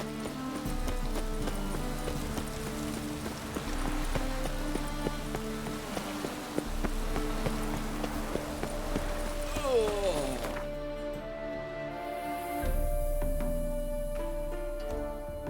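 Hooves of Roach, Geralt's horse in The Witcher 3, clip-clop in a steady rhythm throughout, close and even-paced, layered over game music and ambient sound.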